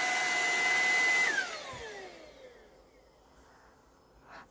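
A Dibea X10 Plus cordless vacuum cleaner runs in normal mode with a loud, steady whine that winds down after about a second, its pitch falling as the motor fades, with no talking.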